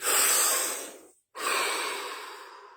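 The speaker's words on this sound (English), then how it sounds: "Deep breath." A single deep breath, drawn in and then slowly released, with a brief pause between the two. It sounds close and clear, with no other sound and no talking.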